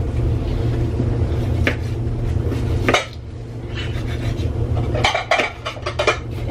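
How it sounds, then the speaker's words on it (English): Dishes, pots and cutlery clatter and clink as a dishwasher is emptied in a home kitchen. The irregular knocks and rattles come fairly close over a steady low hum, with no talking. "He's just emptying the dishwasher because I've been gone all day and I haven't done my chores."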